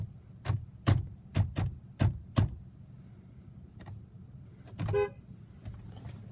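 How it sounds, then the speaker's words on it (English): Horn of a 2011 Volkswagen Routan minivan, honked from inside the cabin in six short separate toots with brief gaps, followed by faint clicks and a quick electronic chime-like sound. "There we go, just the horn."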